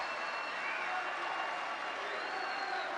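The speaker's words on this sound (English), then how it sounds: "people standing and cheering" A crowd at a CPAC event where Trump speaks stands and cheers, a dense, steady wash of voices and whoops filling the room at constant loudness throughout.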